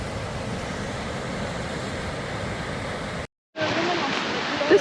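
Steady broadband rush of a river flowing beside a nature trail near Second Dam, a continuous close wash of water that cuts out abruptly for a moment, then resumes slightly thinner.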